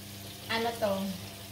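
Soft sizzling of sea bass frying in oil, with a brief louder crackle and hiss rising midway over a steady low hum.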